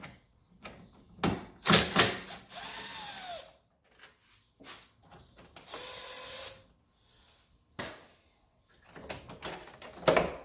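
Power driver backing a T20 Torx screw out of a 2004–2016 Audi A4 bumper, heard as short whirring bursts and clicks separated by quiet gaps.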